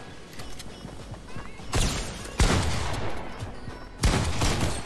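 Shotgun fire in the Fortnite video game: three loud, sharp blasts spaced about a second or more apart, ringing out over a steady background of game ambience.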